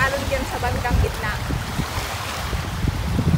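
Strong wind buffets the microphone over the wash of choppy sea waves, heard from a small boat off Donsol. The roaring noise is steady and close throughout.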